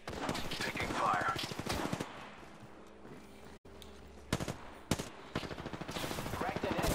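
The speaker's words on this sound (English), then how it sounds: "You're getting shot." Gunfire in the Apex Legends battle royale game, bursts of rapid automatic shots at the start and again near the end, with a few sharp single reports in the quieter middle stretch.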